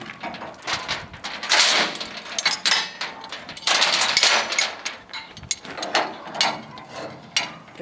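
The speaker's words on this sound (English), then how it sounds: "To be safer, they came up with the ratchet binder." A ratchet load binder is cranked in a run of repeated, loud, close clicking bursts with short pauses between strokes, and no voices are heard.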